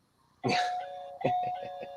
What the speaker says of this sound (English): your doorbell's ringing